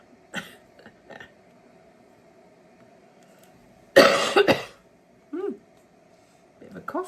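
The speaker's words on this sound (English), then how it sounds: "Bit of a cough this morning." One loud, harsh cough breaks out close by, followed by a few quieter throat sounds and brief vocal noises against a faint hum.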